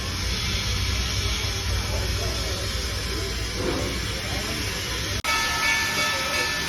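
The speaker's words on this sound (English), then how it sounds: "So the water goes down from there inside the steam engine, and they turn the water into steam." A steam engine train departing at a national park or monument site gives off a steady, loud rumble and hiss of steam throughout, briefly interrupted near the end before resuming.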